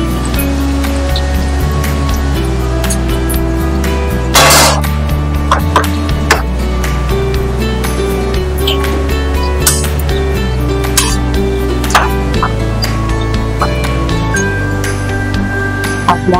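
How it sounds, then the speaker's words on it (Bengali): Half a mug of water poured into a cooking pan of fried spice masala, a loud sustained splashing and sizzling wash with occasional clinks of metal, up close and without talking. "এবার আমি এখানে 1/2 মগ জল দিয়ে দিচ্ছি।"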